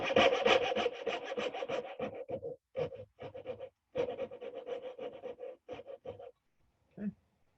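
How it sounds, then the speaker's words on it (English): A coping saw cuts dovetail waste from wood in quick rhythmic strokes, first in a fast run, then in shorter separated bursts, close and clear with pauses between. "I'm going to cut out most of this with this coping saw"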